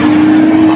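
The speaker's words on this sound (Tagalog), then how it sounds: "Ito yung legit na sasakyan na pwede kang mambangga" A bumper car at an amusement ride gives a brief, loud, steady motor hum with a constant tone, close by and without talk.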